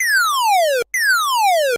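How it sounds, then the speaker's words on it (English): Two identical synth ray gun zaps made by sawtooth LFO pitch modulation, each a loud bright tone sweeping steeply downward over almost a second, with a short gap between them. "then we'll get some great sounding ray gun effect sounds like this"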